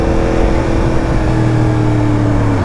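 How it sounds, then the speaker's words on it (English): A Yamaha MT10 motorcycle fitted with an Akrapovic exhaust roars loudly and steadily inside a tunnel, its engine drone holding a sustained, echoing pitch throughout. "Oh, this bike is ridiculously loud, but it sounds so good."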